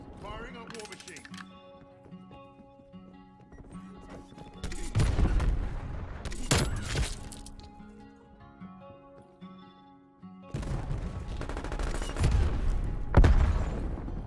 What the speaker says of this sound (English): Firing up war machine.